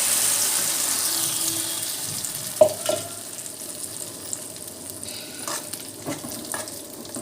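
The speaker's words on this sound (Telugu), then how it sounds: "జీలకర్ర, ఆవాలు అన్నీ అయితే వేసేసుకున్నాను. ఇప్పుడు చట్నీ వచ్చేసి మిక్సీ పట్టుకున్న చట్నీ మనం ఇది వేసేసుకోవాలి." Sizzling tempering of cumin and mustard seeds crackles as a wet ground chutney is added, with a few clanks and scrapes of a spoon against the pan.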